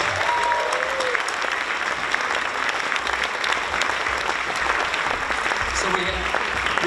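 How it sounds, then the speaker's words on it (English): Steady, loud applause from a banquet audience at a community awards dinner, sustained and even throughout with no letup. "Let's give them a big round of applause."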